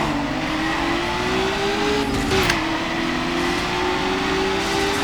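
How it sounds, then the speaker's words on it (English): A Mazda RX-7 race car engine in Need for Speed Underground drones at a steady, loud high rev with a slowly rising pitch, beneath continuous game noise and a brief swell midway. "So new car, brand new Mazda RX-7"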